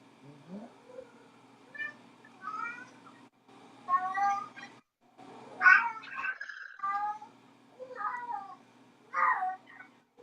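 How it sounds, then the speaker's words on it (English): Cats, including a kitten, meow repeatedly in separate drawn-out calls with short pauses between them, moderately near against a quiet background. "your cats are cracking me up"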